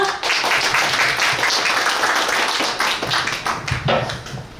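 An audience at a Korean public forum on Palgongsan national park applauds a speaker's introduction, with brisk, close clapping that starts loud and thins toward the end.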